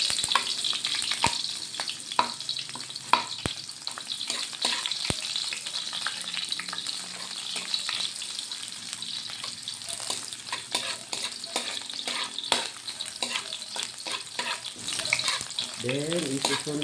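Onion frying in a pan crackles and spits in a dense, continuous sizzle with sharp pops and occasional stirring, heard close up and alone.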